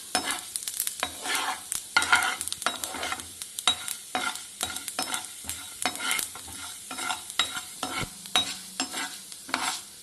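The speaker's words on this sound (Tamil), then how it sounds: "இப்போ உளுந்து வறுபட்டுருச்சு, இதை நம்ம எடுத்து வச்சுருவோம்." Urad dal roasting in a pan rattles and scrapes under constant stirring, a dense run of quick close clatters over a light sizzle, with no voices.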